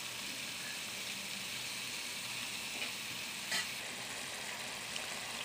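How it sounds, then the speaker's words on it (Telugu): A cabbage and chana dal curry cooks in a pan with a soft, continuous sizzle, faint and fairly distant, broken by a brief scrape of stirring. "ఈ విధంగా మనం కలుపుకుంటూ ఒక 2 నిమిషాలు మనం ఉడికించుకుంటే మనకి రెడీ అయిపోతుంది"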